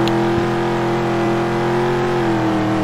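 A car drives in the Roblox video game, its engine holding a steady, loud hum with a constant tone and small bumps, heard alone without talk.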